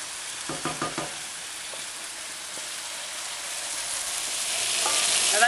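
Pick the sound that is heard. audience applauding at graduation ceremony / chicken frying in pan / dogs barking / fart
chicken frying in pan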